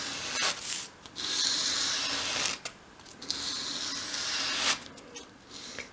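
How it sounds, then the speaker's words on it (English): Scratchy strokes of a small wooden 1/12 scale dolls house chair piece swept across sandpaper, several long rubbing passes close to the mic with brief pauses between them. "So hold the piece against your sandpaper, quite flat like that, and then sweep it towards you,"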